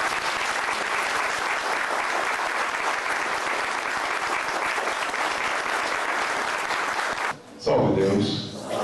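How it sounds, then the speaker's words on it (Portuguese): Loud, dense applause from an audience at a spiritual lecture at Solar Yuricy, Vale do Amanhecer, lasting about seven seconds before cutting off abruptly, followed by a brief voice. "eu gostaria que os príncipes e Uricy recebessem uma salva de palmas"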